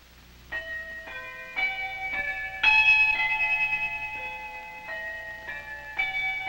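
Tower bells rung by a band of bell ringers in plain hunt, with a steady sequence of clear, ringing strikes of different pitches, each tone sustaining and overlapping the next.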